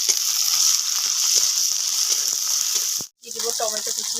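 Chopped onion sizzles in hot oil with ginger-garlic paste and chili paste for an egg curry, a steady bright frying hiss with occasional stirring clicks, briefly cut out before resuming with a louder crackle.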